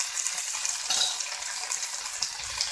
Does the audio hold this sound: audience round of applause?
no